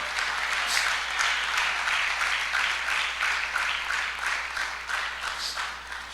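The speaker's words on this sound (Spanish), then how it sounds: "Aplauso al Señor." A church congregation applauds continuously, dense clapping that swells slightly and then begins to taper off toward the end.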